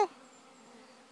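Honey bee swarm buzzing steadily around a hive top as the bees try to get in, a faint, even drone with a brief louder knock at the start.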